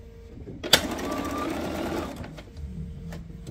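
A sewing machine runs steadily for about a second and a half while stitching a quilt block for a picnic basket pattern, preceded by a sharp click and followed by quieter handling and faint clicks.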